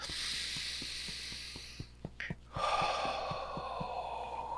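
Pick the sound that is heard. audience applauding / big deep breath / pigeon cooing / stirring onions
big deep breath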